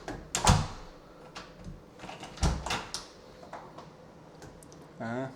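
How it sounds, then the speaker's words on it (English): A front door on a newly built house swings shut with a couple of loud wooden thuds and knocks, heard alongside voices talking nearby. "Not super happy with the way this front door closes."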